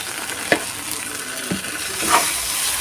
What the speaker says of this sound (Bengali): দিয়ে ভালো করে ভাজতে থাকবো